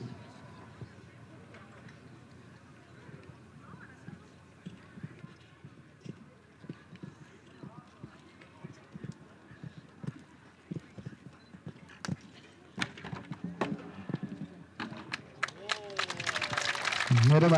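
A show jumping horse's hooves thud across the course in irregular clip-clop beats, soft at first and growing louder and busier toward the end, under a commentator's voice.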